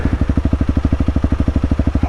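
A Honda CRF300L dirt bike engine pulses in a fast, steady thumping rhythm, loud and close, about ten beats a second, as the rider pops a little wheelie off-road.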